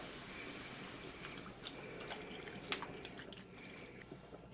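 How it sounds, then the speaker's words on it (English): Beef broth, four cups, is poured into a pan of meatball soup base, giving a quiet, steady liquid trickle with soft drips, close and faint, with no talking. "I'm going to go ahead now and add in 4 cups of beef broth."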